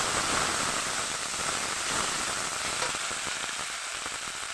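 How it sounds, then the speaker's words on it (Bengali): Ground spice paste fries in oil with pieces of kalbasu fish as it is stirred in a pan, producing a dense, steady sizzle with scattered pops that softens slightly toward the end, no speech. "বাটা মশলা একটু নেড়ে চেড়ে ভেজে নেব"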